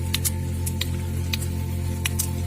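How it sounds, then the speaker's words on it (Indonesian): Air sputters out of a water hose while water is being made to flow without a pump, giving irregular hissing, spitting bursts over a steady low droning hum, close by with no talking. "Itu adalah bunyi dari udara atau angin yang ada di dalam selang."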